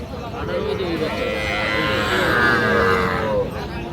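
A young bull calf at Raniganj cattle market gives a long, loud, drawn-out moo close by, with people talking around it.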